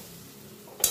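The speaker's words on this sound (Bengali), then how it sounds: "এবার খুব ভালো করে আমি মশলার সঙ্গে আলুটা কষে নেব।" Potatoes being stir-fried with spices in a pan over a low gas flame, a soft steady sizzle with a louder scrape of stirring near the end, close and alone.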